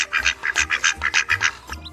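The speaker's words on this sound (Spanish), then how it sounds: "Los patos parpan." A rapid run of nasal duck quacks, about a dozen short calls in quick succession, close and clear with no other sounds.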